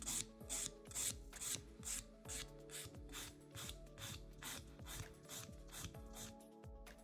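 A nail file rasps against a long acrylic nail in quick, rhythmic back-and-forth strokes, close and steady, with no voices.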